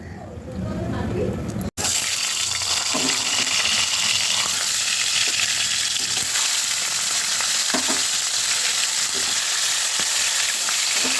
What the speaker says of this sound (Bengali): মাথাটাকে আমি লাল লাল করে ভেজে নিয়েছি